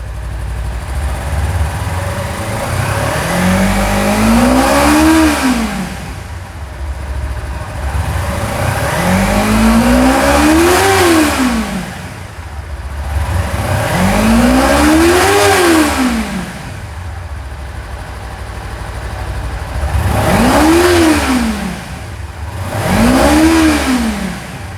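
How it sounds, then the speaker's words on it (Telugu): A 2023 Kawasaki Ninja 300 parallel-twin engine revved repeatedly, with five loud rising-and-falling blips over a steady idle. Each swell climbs smoothly and drops back, alone and close. "సో చూసారు కదండి ఎంత క్లీన్గా రెవ్ అవుతుంది."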